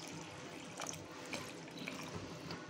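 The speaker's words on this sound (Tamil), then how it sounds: "இதில் கொஞ்சம் நம்ம தண்ணியை ஊற்றிக்கலாங்க." Water pours steadily into a cooking pan of banana stem gravy, a soft continuous splashing with a few small gurgles, quiet and close.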